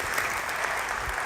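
Steady applause from a partner-day conference audience for a presenter, a dense continuous wash of many hands at even, moderate loudness.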